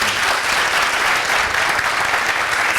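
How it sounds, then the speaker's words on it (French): A thunderous round of applause from a studio audience, dense and continuous, loud and close with no gaps. "je vais demander à ce public de faire un tonnerre d'applaudissements"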